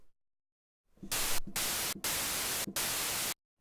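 Bursts of harsh static noise switch on and off abruptly, three short gaps breaking a steady hiss before it cuts out.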